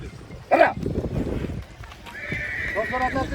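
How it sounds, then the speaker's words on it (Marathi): At a bullock-cart race event, a horse gives a loud, sharp neigh close by and its hooves clop on the ground, with people talking over the busy outdoor scene. "घोडा देखील आलेला आहे"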